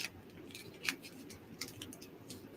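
Scissors snipping open a mail package at a table, a few faint sharp cuts and crinkles spaced irregularly, quiet and close.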